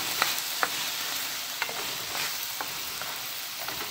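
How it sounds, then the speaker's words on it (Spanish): A spoon stirs salt through a plantain and spinach empanada filling with tomato in a pan, giving soft scraping strokes every half second or so over a steady low sizzle, with no voices. "Lo vamos a revolver que se integre la sal con todo."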